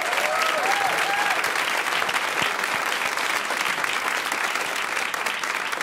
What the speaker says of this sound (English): Was that applause for Max Rose or for Staten Island?